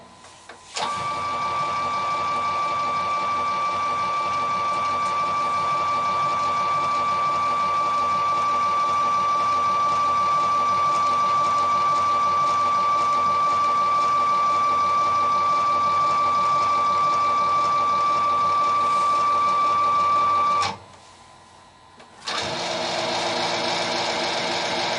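A CNC machine moves to calibrate its probe position. A steady, whining motor hum with a clear tonal pitch runs evenly for about twenty seconds, cuts off, and is followed after a short pause by a brief burst of different mechanical noise.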